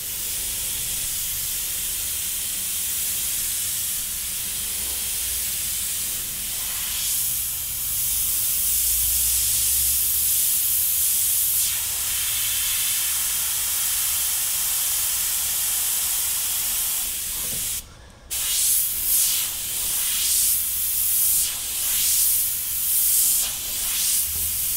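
An airbrush sprays with a steady, close hiss that swells and eases in bursts, cutting out briefly before resuming in short pulses.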